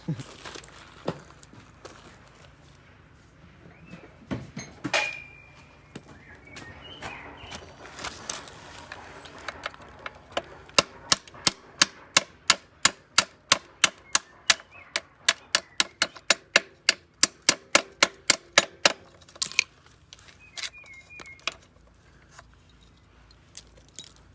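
Sharp metallic hammer blows strike a stuck axle on a Kawasaki KX 125 dirt bike in a fast, even series of over twenty hits near the middle, preceded by scattered clanks and handling noises.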